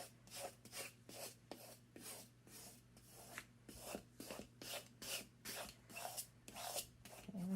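A burnishing tool rubs vinyl down onto a surface in a steady series of short, rasping strokes, roughly two per second, close and fairly quiet with nothing else heard.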